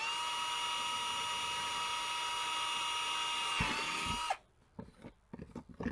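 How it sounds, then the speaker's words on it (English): A steady, grinding power drill with a 3/16 bit runs continuously for over four seconds boring a hole, then cuts off abruptly, leaving scattered clunks and handling noises. "And drill this one."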